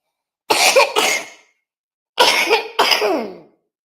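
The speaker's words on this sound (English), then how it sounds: "Damn hippie cough" A person coughs in two separate bursts, each made of a pair of harsh, close, loud coughs with silence around them.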